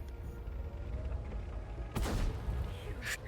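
A KV-2 tank's heavy cannon fires in a tank video game: one sharp, loud blast near the middle of the clip over a low engine rumble, followed by a shorter crack near the end.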